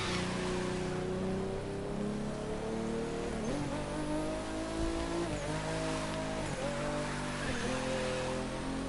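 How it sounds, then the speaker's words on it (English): A Nissan Skyline GTR driven in the racing game The Crew 2, its engine droning steadily and rising and falling through gear changes, moderately quiet, with no voices. "now I'm in a freaking Skyline GTR"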